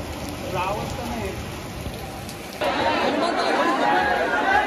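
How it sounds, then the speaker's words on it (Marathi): Heavy rain pours down steadily on a crowded hillside during the Ekvira Aai palkhi festival, growing suddenly louder and denser halfway through, with people chattering underneath. "खूप जोराचा पाऊस लागलाय आता"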